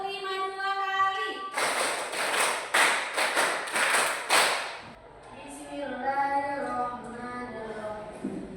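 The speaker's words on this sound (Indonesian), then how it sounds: "Tepuk 2 kali." A class group claps in rhythmic pairs, producing a run of sharp, loud double claps. A voice is heard before the clapping, and speech follows once it stops.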